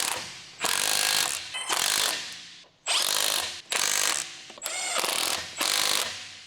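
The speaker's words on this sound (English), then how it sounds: "Using the large 23mm short socket with the large electric impact wrench," A large electric impact wrench with a 23mm short socket snugs the lug nuts on a 2011-2018 Dodge Ram 1500 in six loud, close bursts, each lasting under a second with brief pauses between.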